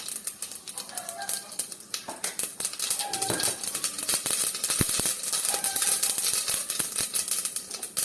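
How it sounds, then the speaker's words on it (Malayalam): Mustard seeds crackle and pop in hot oil in a pan, a dense, rapid, irregular spatter of sharp little bursts that continues loud and close throughout. "എണ്ണ ചൂടായിട്ടുണ്ടേ, ആദ്യം കടുക് പൊട്ടിക്കുക."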